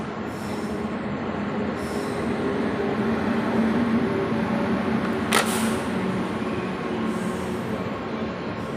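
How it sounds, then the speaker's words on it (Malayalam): A train runs past on the outer track along the Ernakulam–Thiruvananthapuram line, a loud, close, continuous rolling rumble with wheel clatter and a brief sharp squeal partway through. "പുറത്തെ ട്രാക്കിൽ കൂടി ട്രെയിൻ വന്നിട്ട് ഗൈസ്."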